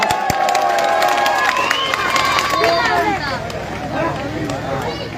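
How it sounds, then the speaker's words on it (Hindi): A crowd at an Eid gathering on a chaupati in Khandela claps and cheers loudly and continuously, with voices and shouts rising through the noise across the whole span. "जोरदार तालियों से।"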